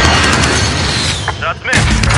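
Airstrike blasts in a battle-royale shooter game, a dense continuous rumble of booming explosions and gunfire that briefly dips before resuming loudly, with voices under it.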